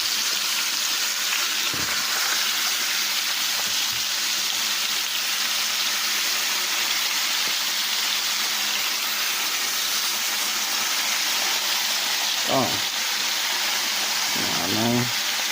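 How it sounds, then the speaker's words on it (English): Pork neck bones sizzle steadily in a frying pan, a loud, constant hiss with a few faint clinks and scrapes near the end. "The neck bones in there doing a sizzle."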